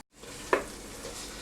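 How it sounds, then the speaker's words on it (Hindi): Chicken pieces coated in spices sizzle in a pan with a soft, even hiss, broken once by a brief sharp pop near the start. "अभी थोड़ा सा इसका चिकन को भून के"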